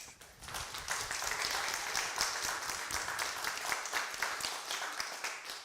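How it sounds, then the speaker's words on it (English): A church congregation applauding at its annual meeting, a steady wash of many hands clapping that holds at an even level for several seconds, fairly quiet, with no talking over it. "I invite you to put your hands together and applaud those who have offered themselves for service to the church."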